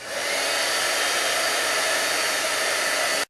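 A heat tool blasts hot air over dazzling diamonds embossing powder to melt it, a loud, steady, close whooshing roar that starts and cuts off abruptly, with no voices.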